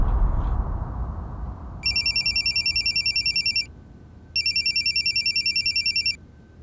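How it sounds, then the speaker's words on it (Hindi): A telephone rings in two long trilling bursts separated by a brief pause, loud and close over a low background rumble. "ईशा आपको कांटेक्ट करने की कोशिश कर रही थी, आपने कॉल क्यों नहीं उठाया?"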